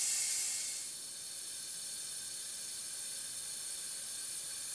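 Shop air rushes through an opened valve on a cooling system vacuum filler attached to a radiator fill, a steady close hiss that holds throughout with no other sounds.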